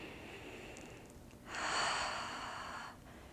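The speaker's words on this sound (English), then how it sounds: "1 more deep inhale and exhale" A single deep inhale followed by a long exhale during a yoga stretch for the lower legs and feet, soft and close, with quiet room tone around it.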